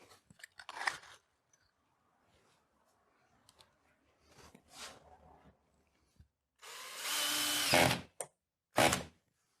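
A power drill drives a screw into the edge of a drywall sheet, with short whirring bursts near 1 s and 5 s, then a loud sustained run around 7–8 s and a final brief burst, close and alone.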